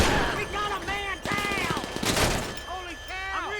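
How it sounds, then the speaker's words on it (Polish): Revolver fire in a GTA video game: loud gunfire cracks around the middle, mixed with overlapping speech and game sounds. "rewolwer to jest moja główna broń"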